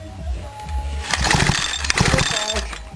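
A small chainsaw engine runs roughly with a buzzing, rattling idle that surges louder midway, recorded up close during an ignition check.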